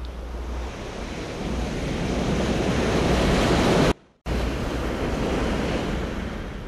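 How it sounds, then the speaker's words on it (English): Loud, continuous roar of ocean surf crashing against vertical cliffs on the California coast, with wind rushing across the microphone, broken by a brief sudden dropout before the rumbling waves resume. "The sound of waves can be a continuous roar upon vertical cliffs towering high above the surf"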